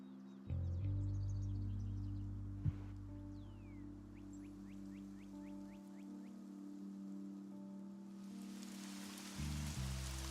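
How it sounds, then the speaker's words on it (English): Steady background rain hisses under a layered ambient soundscape with sustained low drones and a few faint chirps, quiet and continuous with no one speaking. "Let me see if I have some background music for rain."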